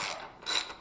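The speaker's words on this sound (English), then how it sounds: "First tool we're going to need is a 5mm socket to remove our propeller." A 5mm socket on a ratchet turns paramotor propeller bolts, giving two short bursts of quick metallic ratchet clicking, close and fairly quiet.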